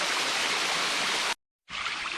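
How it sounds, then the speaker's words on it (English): Cascading five-layer waterfall below Alicia Falls, a dense steady rush of falling water, loud and close, broken by one short silent gap before resuming. "the water from Alicia Falls comes down to this cascading 5-layer fall"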